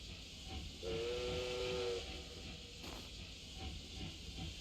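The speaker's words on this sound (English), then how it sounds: "Behold, the pinnacle of the Rock Company's technological wizardry. Steam Tank Obsidian." Steam whistle from the Steam Tank Obsidian in Octopath Traveler, a single sustained harmonic blast of about a second over a continuous loud hiss of venting steam that persists throughout.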